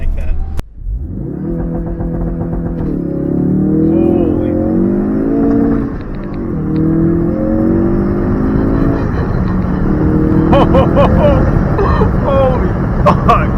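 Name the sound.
Ford Focus RS engine accelerating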